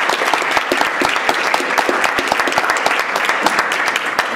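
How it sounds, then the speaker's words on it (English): Conference audience applauding panelists after a discussion on organizing equality, dense sustained clapping throughout, fairly close, with no speech over it. "Let's go ahead and give our panelists one more round of applause."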